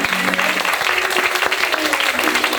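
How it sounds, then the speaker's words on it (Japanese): Audience applause at a music event, a loud, sustained burst of clapping from a crowd with a faint voice and a held tone underneath. "もう一度大きな拍手をお願いします。"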